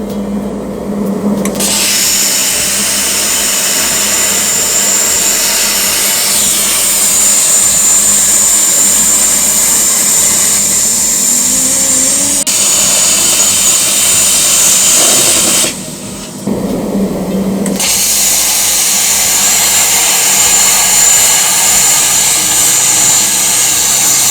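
Riland CUT 100GT plasma cutter slicing 25 mm mild steel plate on compressed air above 6 bar, a loud continuous roaring hiss that runs throughout, briefly cutting out and restarting partway through.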